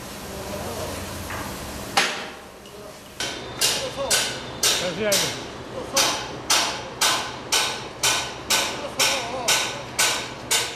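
Bolt work high on the second floor of a steel building frame, a steady series of sharp metallic strikes repeating about every half second, loud and close, over a constant hum of site noise.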